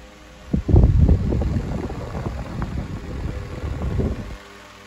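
A Westinghouse 16-inch pedestal fan runs on high speed with its grills removed, pushing a steady, close, blustery rush of air that buffets the microphone from about half a second in, with no talking.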